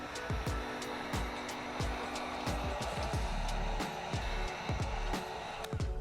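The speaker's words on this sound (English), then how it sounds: "Grab your heat gun, apply heat." Heat gun warming window tint film on a 2014-2025 Dodge Durango, a steady blowing whir with repeated short taps and clicks running under it.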